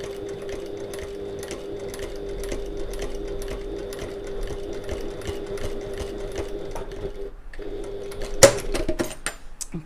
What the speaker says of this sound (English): we're just going to stitch that to secure it